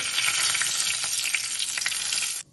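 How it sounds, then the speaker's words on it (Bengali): Bay leaf and white cumin seeds hit hot oil for a jackfruit kofta curry, setting off a loud, crackling sizzle that spits and pops up close for about two seconds before stopping abruptly. "তেজপাতা ফোড়ন দিয়ে দিলাম আর দিয়ে দিচ্ছি সাদা জিরে"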